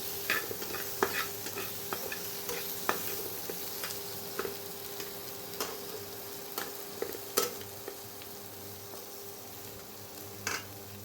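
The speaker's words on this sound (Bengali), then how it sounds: "নিয়ে টমেটোটাকে এবার একটু ভেজে নেব ভালো করে" Chopped tomatoes sizzling in a pan for a fish curry, a soft steady hiss broken by scattered clicks and scrapes of a spoon stirring, fairly quiet and with no talking.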